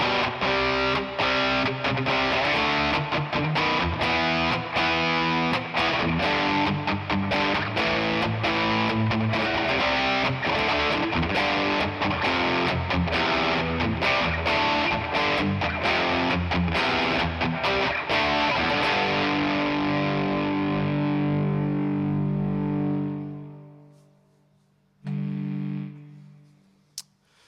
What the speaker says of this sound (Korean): 그래서 그냥 오버드라이브와 디스트 채널을 킨 것보다 조금 더 강하고 좀 더 빡빡한 소리를 내주고 있어요.